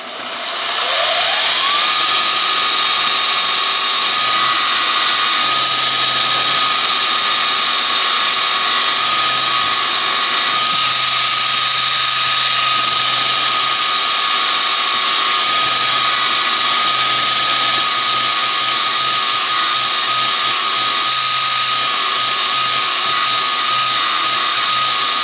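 A power tool fitted with a wire brush cleans the threads in a Harley-Davidson Panhead cylinder head. It makes a continuous, loud whirring drone with a steady high whine and faint scraping, running without a break for about twenty-five seconds.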